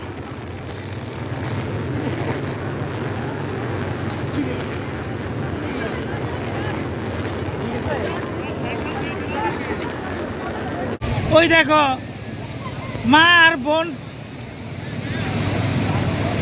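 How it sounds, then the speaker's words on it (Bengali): Continuous roar of rough sea waves and gusting wind buffeting the microphone at Cox's Bazar beach during a low-pressure storm, loud and close, with a person speaking briefly over it near the end. "প্রচুর ঢেউ সাগরে, সাগর অনেক উত্তাল,"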